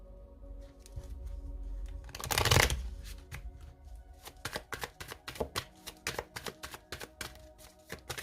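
Tarot cards shuffled by hand, with one dense riffle burst early on followed by a long run of crisp, rapid card snaps and taps, close and clear, with no talking.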